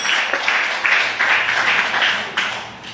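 A church congregation claps together in steady rhythmic bursts, a dense, bright patter filling the space without pause.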